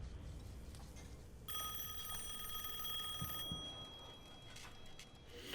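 A telephone rings with a bright, sustained electronic tone inside a Punisher TV episode scene, one long ring heard faintly over a low background with no talk.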